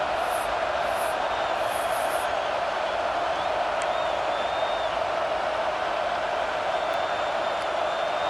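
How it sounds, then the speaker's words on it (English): Ohio State Buckeye football crowd in a stadium on third down during a game against Georgia, a steady broad roar of cheering that stays constant throughout, with faint whistles on top. "The Buckeye crowd alive on 3rd down."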